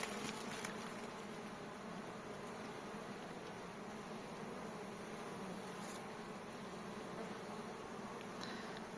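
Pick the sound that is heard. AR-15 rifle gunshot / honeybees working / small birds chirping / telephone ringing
honeybees working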